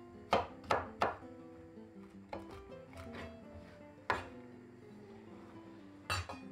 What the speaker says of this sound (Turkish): Şimdi cevizlerimizi doğrayalım.